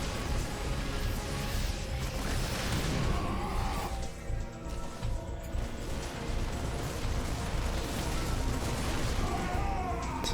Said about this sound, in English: Vikings are gonna shoot it down now